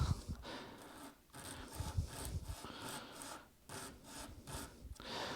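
A guitar nut on a Gibson Studio is rubbed back and forth against a sanding surface. The dry, raspy strokes repeat in a steady rhythm, close and fairly loud, with no talking.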